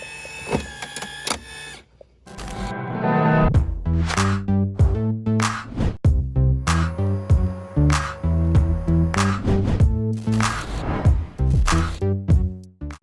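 A Bissell ReadyClean A3 mopping robot station lowers its elevator and swaps the mop pad, giving a loud, continuous mechanical whirr with rhythmic motor pulses and clicking clunks.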